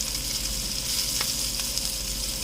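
A constant sizzle of salmon searing in a pan with extra butter added, dense close crackle running evenly with a few brief spits and no talking.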